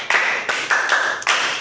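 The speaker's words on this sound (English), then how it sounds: "clap for yourself" A language class claps for themselves in a short burst of loud, close hand clapping with a few brief pauses. No one speaks over it.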